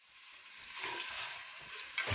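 Chicken pieces sauté in a hot pan until browned for tinolang manok, a soft, steady sizzle that swells slightly over a couple of seconds, close and alone without voices.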